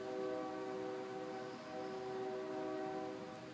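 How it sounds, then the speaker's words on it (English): A train passes about a block from a studio, heard as a steady, moderately loud rumble with sustained horn-like tones held throughout, no talking. "there's a train that runs about a block away"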